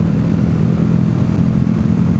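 A 2014 Honda VFR Interceptor Deluxe motorcycle ridden two-up on new Michelin Pilot Road 4 GT tires, giving a steady, loud mid-pitched engine drone with constant road and wind rumble and no talking.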